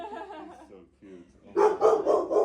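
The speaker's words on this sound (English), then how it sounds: "look at those puppies" Puppies at an animal rescue organization bark in a rapid run of several yappy barks after people talk nearby.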